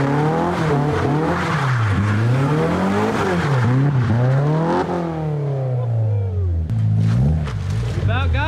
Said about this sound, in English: just go really fast like give gas and just turn really sharp. It'll drift for you.